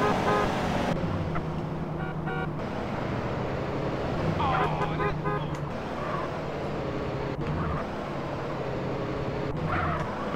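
A car in GTA San Andreas drives with a steady engine drone and occasional tire noise, and people talk over it throughout.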